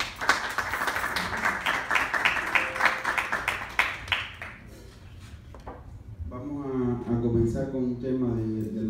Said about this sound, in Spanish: Por favor, otro aplauso para...